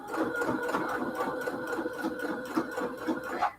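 Sewing machine running steadily at close range, its rapid rhythmic stitching whirring throughout while a quilted pillow case is sewn, with no voices.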